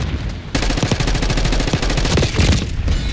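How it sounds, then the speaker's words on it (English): Sustained automatic gunfire in the Call of Duty: Black Ops 6 beta, a rapid, loud, unbroken stream of shots that starts abruptly after half a second and rattles on to the end. "That was some bad shooting from me."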